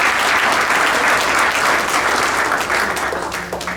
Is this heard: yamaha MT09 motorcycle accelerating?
no